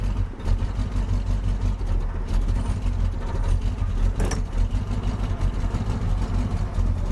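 Abandoned, crushed 1967 Buick GS 340 with a 340 engine and an ignition system in need of work, running in drive: a steady, loud, rough low rumble close by, with no talking.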